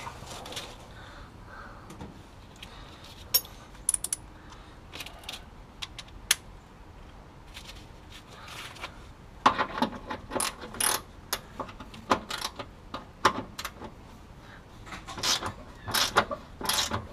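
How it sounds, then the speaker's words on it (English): A wrench working loose 3/4-inch castle nuts on the front end of a 1972 Oldsmobile Cutlass, with rapid ratcheting clicks and metallic clinks in bursts, growing busier and louder in the second half. "we're going to finish getting our bolts loose over here"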